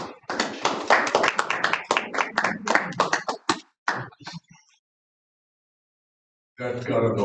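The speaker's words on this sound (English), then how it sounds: "That got an applause." An audience at a talk on the Imago Dei and Calvin's Institutes breaks into applause: a burst of many hands clapping that tapers to a few claps, then silence, then someone starts talking.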